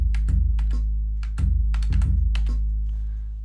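Someone types on a computer keyboard being used to make a beat, sounding as close, clustered clacks in uneven bursts over a steady low hum.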